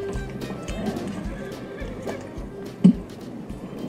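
Horses gallop in the video game Red Dead Online with a steady rhythmic clip-clop of hooves, a brief whinny rising partway through, and people talking over the galloping.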